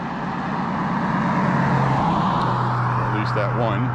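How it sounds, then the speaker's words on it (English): Cars passing on a road at night in Lewiston, Maine, heard from the roadside as a rising and fading whoosh of tires and engines. A low engine hum runs underneath and a faint voice comes in near the end. "I'll wait till these cars go by."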